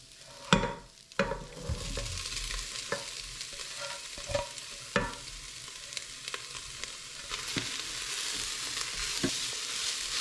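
Minced beef sizzles in a pan for chilli con carne, a steady frying hiss broken by sharp scrapes and clacks of a utensil stirring it, close up with no talking.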